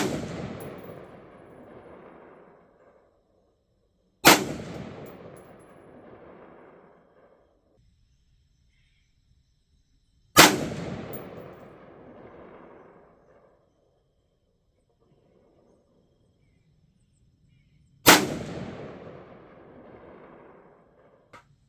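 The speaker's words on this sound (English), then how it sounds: "First 2 shots aiming center mass, second 2 shots aiming for the left target." Rifle fired through a CVLIFE Eagle Talon 1-6x24 LPVO scope: three sharp, loud gunshots spaced several seconds apart, each followed by a long rolling echo that fades into quiet outdoors.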